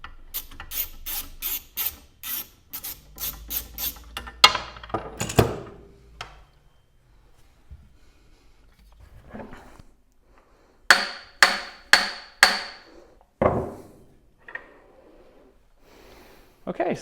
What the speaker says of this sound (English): So let's get this center bolt off and pull the wheel off.